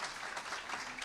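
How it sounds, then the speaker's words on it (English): Audience applause closing a chamber of commerce breakfast meeting, a steady, dense wash of many hands clapping at moderate distance, sustained without pause. "All right, nice round of applause."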